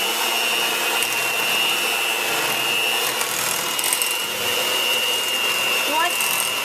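A hand mixer whirs in a steady, continuous drone as it blends coconut milk into cooked mung beans for a Vietnamese mochi dessert (chè xôi nước), close and constant with no pause.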